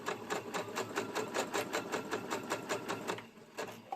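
A sewing machine runs close by, stitching a sunshine dress in quick, even bursts of rhythmic needle clatter before slowing and stopping near the end.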